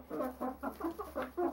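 Crowded Cobb 500 broiler chickens cluck close by in a quick, uneven run of short calls, alone and fairly soft.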